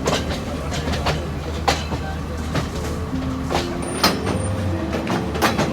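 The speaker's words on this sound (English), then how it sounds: "onto a train, and we head further up the mountains" Rhythmic clickety-clack of a train rolling over rail joints as it climbs into the mountains of Nuwara Eliya, Sri Lanka, with a steady rumble underneath and faint voices in the carriage.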